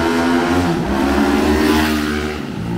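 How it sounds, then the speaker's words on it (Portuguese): A Honda CB 300 two-cylinder motorcycle rides past on the street, a loud steady engine drone with a rising and falling pitch as it nears, then fading slightly toward the end. "Olha lá a motinha vindo"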